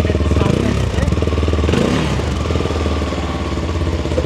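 A CFMOTO 300SR motorcycle runs close by, its engine chugging with a steady rhythmic idle and slight rises in revs, loud and continuous throughout.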